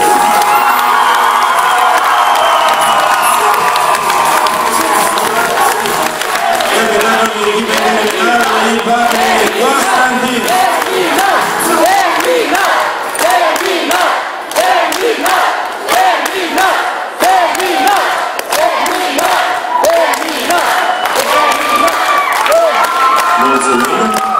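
Loud crowd in an auditorium cheering, whooping and clapping without a break, a dense roar of voices over steady applause.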